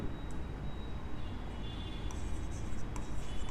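Pen strokes scratch across paper as an accounting transaction is written out, a faint, close, continuous scraping with a few sharper marks, heard alone without speech.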